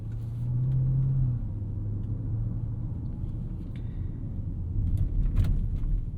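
A 2023 Lamborghini Urus S twin-turbo V8 SUV cruising through city streets, its steady low engine rumble heard from inside the cabin, rising slightly near the end as it picks up speed.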